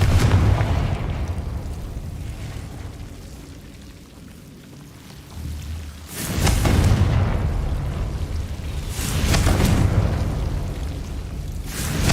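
Confringo fire spell explosions in the Hogwarts Legacy video game: a rumbling, rain-like roar punctuated by two loud, broad booming blasts a few seconds apart.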